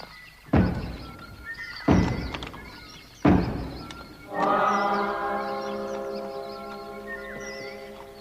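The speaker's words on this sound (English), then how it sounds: "Tarin, knock on the doors." Three heavy, hollow knocks on the doors of the Last Homely House, evenly spaced and fairly close, followed by a sustained, resonant tonal swell that lingers and slowly fades.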